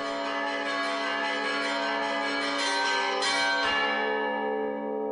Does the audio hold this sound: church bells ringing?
yes